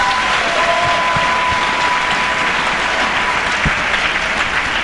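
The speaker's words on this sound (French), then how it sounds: "Acclamons le Seigneur." A church congregation applauds and cheers at a French-language sermon, the dense clapping steady and loud throughout, with a crowd roar underneath and a faint tone running along for part of it.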